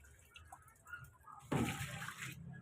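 Water pours in a brief, splashing burst that starts abruptly and runs for about a second, close to the microphone.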